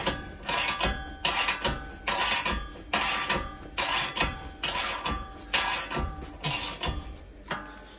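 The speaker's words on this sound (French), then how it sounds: "je l'avance avec mon cliquet" A hand ratchet pre-tightens a rear brake caliper bolt on a Renault Scénic 4, giving close, rhythmic bursts of metallic clicking strokes, about one every half second, with no talk.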